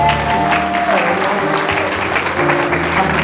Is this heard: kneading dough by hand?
no